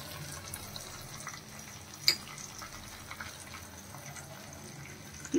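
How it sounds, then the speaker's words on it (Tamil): Curry leaves splutter in hot oil for ven pongal with a soft continuous sizzle, one sharper crackle partway through and a pop at the end, and no voices. "கரி லீவ்ஸ் ஃப்ளட்டர் ஆகும்."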